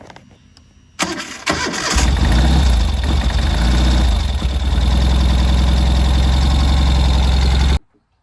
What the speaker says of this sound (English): The motor sounds good. Now, just let me start it for you.